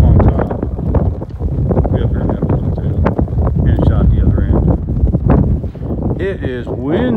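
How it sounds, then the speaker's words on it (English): Gusty wind near a railroad tunnel in Sadieville buffets the microphone in a low continuous rumble, with water and faint movement sounds underneath, steady throughout. "Sorry about all the wind."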